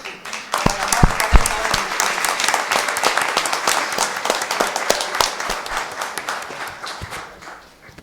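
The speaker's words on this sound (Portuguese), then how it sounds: "Dá salve de palmas para o Sr. Luiz." A round of applause in a municipal council chamber during an ordinary session, many people clapping steadily for several seconds after a vote, dense and continuous before dying away.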